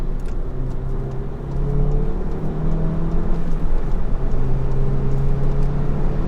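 Inside a Volkswagen MK7 GTI with a Unitronic Stage 1 tune, the engine accelerates on the highway, a steady cabin drone rising in pitch through the gears over road rumble.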